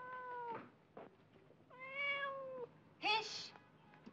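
Cat meowing in an Egyptian film scene, three distinct meows of rising pitch spaced out over a few seconds, the last one loudest, with soft background noise between them.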